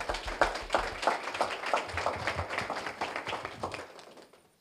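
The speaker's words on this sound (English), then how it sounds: "let's give her a round of applause" A small audience at a business workshop meeting applauds with steady, moderately loud clapping that fades away at the end.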